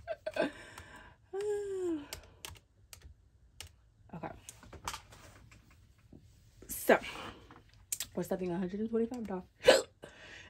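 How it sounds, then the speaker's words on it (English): Several sharp hiccups punctuate quiet speech from a woman indoors, with light keyboard-like clicks and taps scattered between them. "I got the hiccup."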